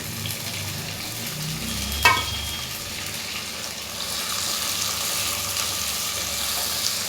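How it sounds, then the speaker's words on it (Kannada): Tomatoes sizzle steadily in a hot pan for a Karavali-style sardine pulimunchi curry, a soft continuous frying hiss with one sharp clink near the start. "ಫ್ರೈ ಮಾಡಿ ಫ್ರೈ ಆಗಿದೆ ಇವಾಗ ಟೊಮೆಟೊನ ಇದ್ದೀನಿ"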